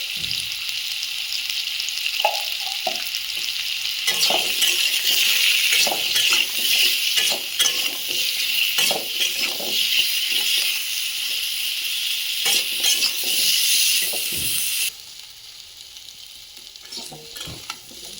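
Potatoes seasoned with turmeric and salt fry in a pan, a loud bright sizzle broken by repeated stirring scrapes and clinks, the hiss dropping sharply near the end as the heat eases.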